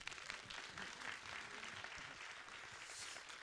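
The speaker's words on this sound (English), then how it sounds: "When you're all here, we give you a big applause" Faint, distant applause from a symposium audience welcoming guests onto the stage at a marine litter event, a soft, continuous patter of clapping at low level.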